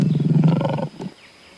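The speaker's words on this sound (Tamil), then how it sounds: "ஒவ்வொரு மிருகமா விக்ரமன் சிங்கம் கொன்னு தின்னது." A cartoon lion gives a single short, throaty roar that cuts off abruptly, followed by a brief fainter grunt and quiet tail, close and loud with no talking.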